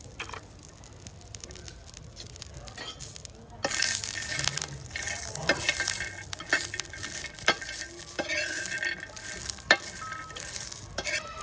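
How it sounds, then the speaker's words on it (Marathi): Peanuts, garlic and green chillies roast in a pan for a village-style green chilli thecha, with a soft sizzle and a spatula stirring and scraping in repeated strokes, alone and close up. "हे सगळं साहित्य चांगलं भाजून घेऊ।"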